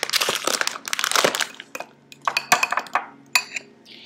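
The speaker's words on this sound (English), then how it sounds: "Next, mix in 7 tablespoons of almond meal or ground almonds." Almond meal being stirred into eggs in a bowl: a busy run of utensil clinks and scrapes against the dish, then sparser separate clatters and taps, close and fairly loud, no voices.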